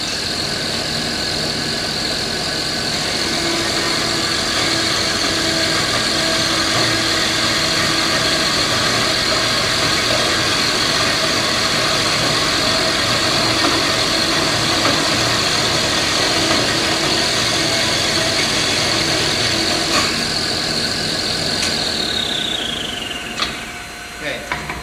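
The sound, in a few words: bandsaw running while cutting aluminum screwdriver stock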